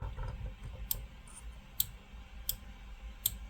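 A Longer B1 diode laser engraver carriage rolls along its belt-driven frame on eccentric nuts, giving four faint, sharp clicks at uneven intervals over a low steady hum, with no talking.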